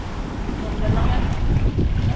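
Strong wind roars and buffets the microphone with a heavy low rumble, gusting louder midway, with water or waves faintly beneath.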